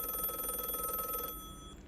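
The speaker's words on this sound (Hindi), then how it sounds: "फोन बजा" A telephone rings indoors with a bright electronic trill, repeating rapidly for over a second, then stops, leaving a short fading tail.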